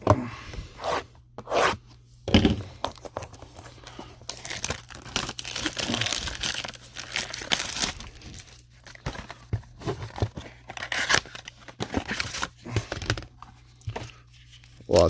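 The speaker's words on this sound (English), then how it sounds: "So I'm going to open one up here and we're going to see what we get." Crinkling and tearing of a Magic: The Gathering Ikoria booster pack's foil wrapper, in irregular bursts of close rustling and ripping separated by brief pauses.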